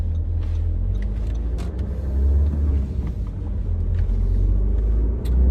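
An Audi Q3 Ambition Luxe picks up speed on a city avenue, heard from inside the car. A deep, steady engine rumble swells and eases, with light road noise and a few faint clicks.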